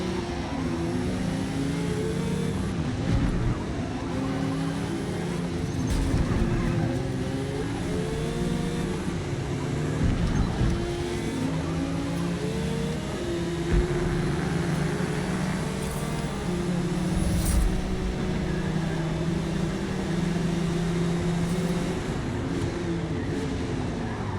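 Race car engines roar continuously in Forza Motorsport, a steady droning whine with rising and falling revs and occasional bumps, loud and sustained throughout.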